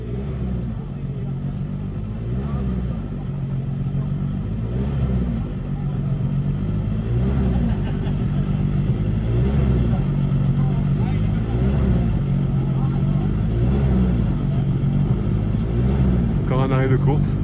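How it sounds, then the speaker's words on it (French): Formula Renault race car at a hill climb course, its engine idling and burbling steadily at the start line, a low, continuous rumble with a brief rising rev near the end, under French-language commentary over loudspeakers. "Nathalie Marie et sa formule Renault du groupe DE de la classe 7"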